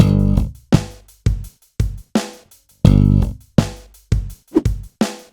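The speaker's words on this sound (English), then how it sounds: "So we just kind of hold the fingers there and do a muted slap." Slap bass lesson phrase on electric bass: a low G slap, a left-hand slap and a muted slap with fingers resting on the strings, played as ten or so sharp percussive plucks in a steady, punchy rhythm, close and alone.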